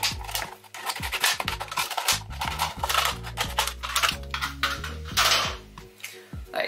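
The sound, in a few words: cutting around a moss pole for plant repotting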